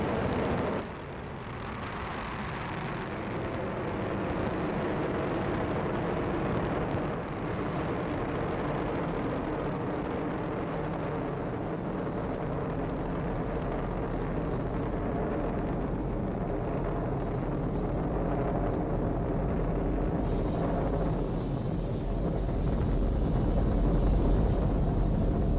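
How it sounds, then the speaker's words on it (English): A SpaceX Falcon 9 rocket launching on a cargo resupply mission to the International Space Station gives a sustained, broad, rumbling roar that holds steady and swells slightly toward the end, with no talk. "liftoff of the 22nd SpaceX cargo resupply mission"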